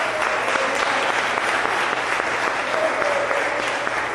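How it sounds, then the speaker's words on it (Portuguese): Sustained applause from a congregation at a church conference, a steady wash of many hands clapping at a consistent level, with faint voices mixed in. "Dá mais um lindo aplauso ao Espírito Santo"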